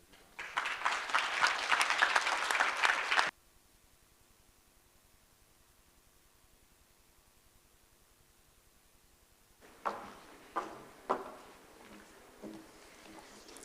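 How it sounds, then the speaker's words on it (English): Audience applause fills a ministerial session hall after a document is approved, a loud burst lasting a few seconds before cutting off to quiet room tone, followed later by scattered sharp claps and shuffling. "Another round of applause, please."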